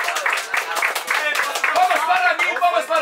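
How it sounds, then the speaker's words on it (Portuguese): Rapid clapping from several people close by at a competition final, a dense patter of hand claps with a voice talking over it in Portuguese. "Palmas para a organização, Filmmaker."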